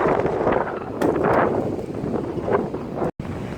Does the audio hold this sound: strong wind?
yes